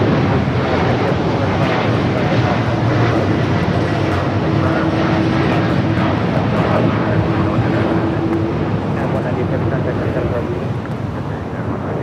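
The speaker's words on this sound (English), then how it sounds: "We do have a United Dreamliner rocking and rolling down to 25 right." A United Boeing 787 Dreamliner takes off on runway 25 right at LAX, its engines giving a steady, loud broadband roar that holds for the whole stretch and eases slightly near the end, with a faint tonal whine running through it.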